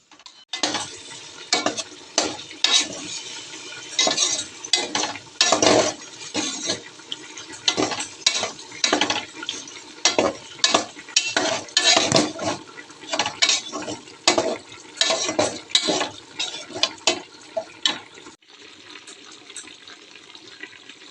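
Chicken liver fries in a pan while being stirred continuously, producing a long run of loud scraping and sizzling strokes in close, busy rhythm, with no talk.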